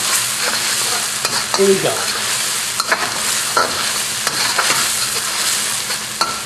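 Aromatics and sambal fry in a hot wok for a Vietnamese wok-tossed eel, a loud steady sizzle broken by scraping stirs and clinks of the utensil, with a brief spoken remark.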